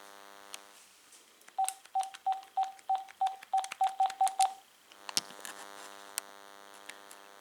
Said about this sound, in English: let's go ahead and call the time temperature hotline on this first handset